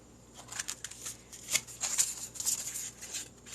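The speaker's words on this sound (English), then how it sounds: "let me shuffle again" A deck of cards shuffled by hand during a live card reading: soft, papery riffles and flutters in quick irregular bursts, close and fairly quiet, with no talking.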